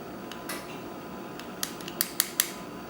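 Small metal part being turned and fitted into the internal assembly of a Technics turntable tonearm, faint light clicks and ticks, a few sharp taps near the end, quiet and close.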